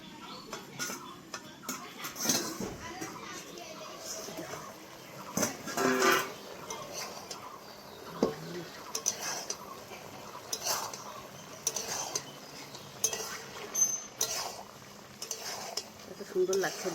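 A pot lid clinks and rattles a few times over a covered pot of small fish simmering on low heat, with faint bubbling and scattered kitchen ticks in the background.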